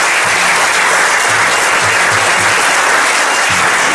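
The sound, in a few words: audience applause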